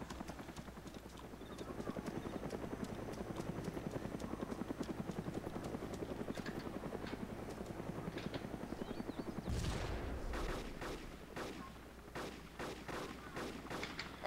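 Gunfire in the survival game DayZ, a long run of rapid, evenly spaced shots at moderate distance, broken by a brief heavy rumble and followed by a few more scattered shots, with no voices.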